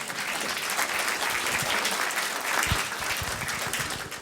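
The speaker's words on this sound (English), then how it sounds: "Let's applaud." An audience at a lecture on education and self-government breaks into applause, a steady, dense clapping sustained throughout at moderate loudness.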